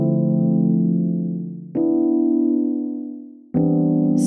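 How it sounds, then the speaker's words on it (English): Three sustained electric-piano chords from Logic Pro's Jazz Ballad Left Hand keyboard voicing ring out in turn, each swelling then fading slowly before the next is struck; warm, clear and close, with no voices. "Or you can mess around with some keyboard voicings."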